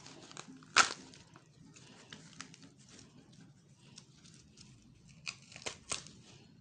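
Sequins are peeled off an Ankara fabric wedge shoe in quiet, close crinkling and scratchy tearing sounds, with one sharper rip early on and scattered soft snaps.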